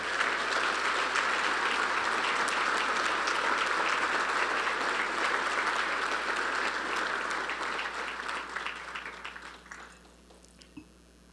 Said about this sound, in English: I'd also like to give them a round of applause.